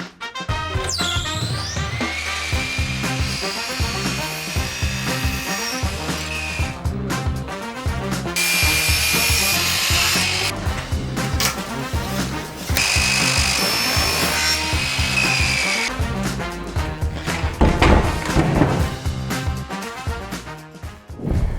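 A power tool cuts aluminium F1 construction profiles in a workshop: loud, continuous whining and grinding cuts, with short breaks between passes and clattering handling noises.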